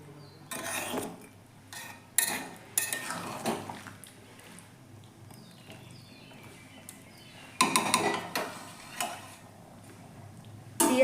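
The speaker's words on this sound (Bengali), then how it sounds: "তো সমস্ত মশলার সাথে আলুগুলো এখন মিশিয়ে দেবো ভালো করে" Potatoes, spices and chicken stirred in a pot, with a few clattering bursts of a spoon scraping and knocking against the metal between quiet gaps, close and moderate in level.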